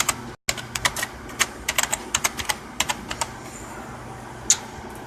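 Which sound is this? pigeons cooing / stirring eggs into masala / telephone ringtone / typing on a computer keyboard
typing on a computer keyboard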